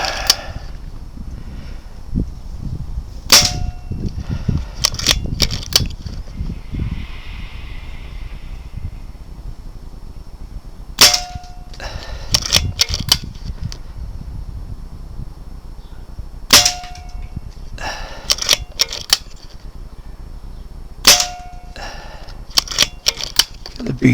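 Rifle shots ring out against steel targets at a shooting range, each crack followed by a bright metallic ping; shots come in irregular clusters over quiet background with occasional low handling noise.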